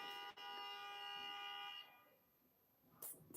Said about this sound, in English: They honking.